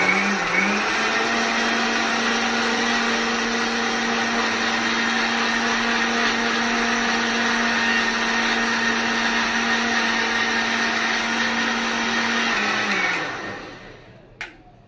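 An electric blender whirring wood apple (bel) sherbet: a loud, steady motor whine with churning liquid, running close and continuous for about thirteen seconds before spinning down and stopping, followed by a brief clunk.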